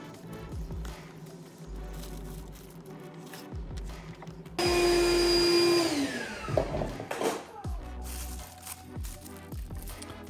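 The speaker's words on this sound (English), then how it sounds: "So I applied some vacuum pressure over where the mold little insert assembles" A vacuum pump pulls pressure over a resin mold insert for a buggy body panel, its steady whine rising suddenly midway, holding loud for about a second, then trailing off into irregular clunks and workshop noise.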